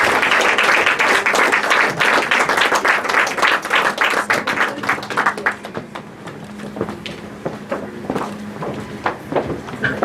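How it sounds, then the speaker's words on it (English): Dinner guests at a House of Lords conference applaud loudly at first, then the clapping thins into scattered, distinct claps that fade toward the end. "A resounding round of applause for him."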